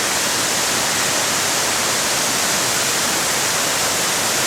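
A waterfall in the Chartreuse mountains roars with a constant, dense, broadband rush of water, loud and unbroken throughout, with no voices.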